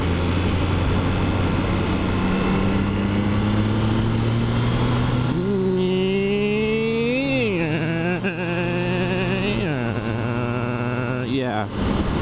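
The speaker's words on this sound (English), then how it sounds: "This is a fun little engine and bike." A Triumph Trident 660 three-cylinder motorcycle engine pulls while riding, with steady rising revs, then repeated swells and dips as the throttle is worked and gears change, loud and close over wind noise.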